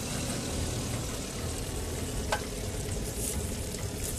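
Coconut oil poured into a gravy-style masala curry sets off a steady, close sizzle that holds evenly throughout, with one brief sharp click partway through.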